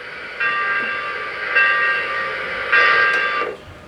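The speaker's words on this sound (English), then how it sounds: "pressing the whistle button on my transformer and getting the whistle to sound" A model train whistle on a TMCC-programmed locomotive, sounded from the transformer's whistle button, blows three times in steady, sustained blasts, each lasting about a second, loud and close with brief pauses between.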